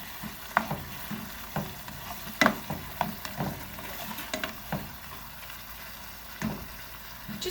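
Carrots and dried cranberries sizzle in a frying pan while being stirred frequently, with scraping spoon strokes and occasional clinks standing out over a steady low fry, close by and without talk.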